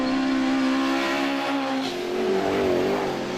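A pack of historic 1960s-style touring cars, Cortinas among them, races past at Croft circuit toward the chicane. Engines howl loudly and steadily and shift in pitch as the cars go by, with a brief hint of tire noise.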